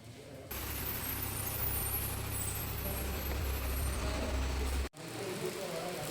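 A KSRTC bus idles at the Sirsi bus stand with a loud, steady diesel rumble, then cuts off abruptly near the end before the station's background din resumes.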